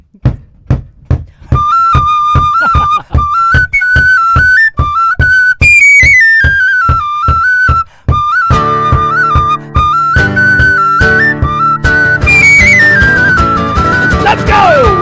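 A tin whistle plays a lively Irish folk melody, starting with short bouncy notes over a steady plucked rhythm. About halfway through, fuller accompaniment joins with accordion-like chords, loud and sustained to the end.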